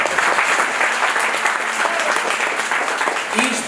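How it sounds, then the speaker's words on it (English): A room full of guests at a mother's birthday party breaks into sustained clapping, a close, even wash of applause lasting a few seconds with some faint voices mixed in. "Let's give each other a round of applause for being here."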